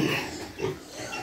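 A pregnant sow grunts close by, two or three short rough grunts in quick succession, loud and alone.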